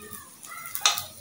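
Rice for biryani frying in a pan as it is stirred, a soft, close sizzle with a few scraping stirs over about a second.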